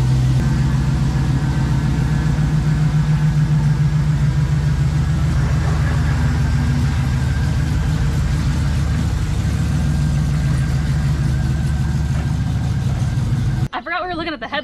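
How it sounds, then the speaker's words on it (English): A Jeep LJ fitted with an LS V8 engine idles with a deep, steady low rumble up close, running continuously before cutting off abruptly near the end, followed by brief handling noises. "I'm going to fire up the LJ just to hear the LS rumble"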